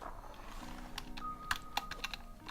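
Computer keyboard keys are typed in quick irregular clicks, a handful of sharper presses standing out over faint background hum, close and fairly quiet, with no talking.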